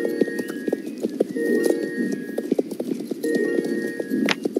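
Horse hooves clip-clop steadily in a video game, many even, rhythmic footfalls close by, with a brief whinny-like burst near the end.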